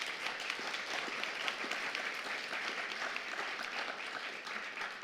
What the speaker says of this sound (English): a round of applause for that, frankly.